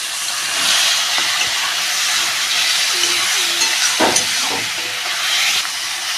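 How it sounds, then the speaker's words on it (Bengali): Fat from a rui fish head frying in hot oil with five-spice, a steady loud hiss and sizzle with brief crackles and spatters throughout, no talking. "মাছের তেলটা ভেজে নেব।"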